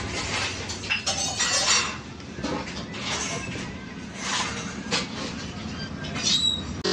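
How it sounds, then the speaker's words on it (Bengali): A mixer grinder whirs steadily while grinding soaked lentils, rice and garlic, a dense rattling roar with brief surges and clattering, loud and close throughout. "আমি এখন মিক্সিতে পিস করে নিচ্ছি"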